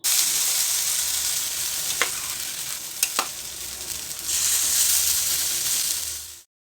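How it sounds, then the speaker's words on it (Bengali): Soybean paste mixed with gram flour frying in mustard oil in a wok over a raised gas flame, a loud constant sizzle with a few sharp clacks of stirring, swelling near the end before cutting off. "গ্যাসের ফ্লেমটা একটুখানি বাড়িয়ে নিয়ে এটা সুন্দর করে ফ্রাই করে নিয়েছি"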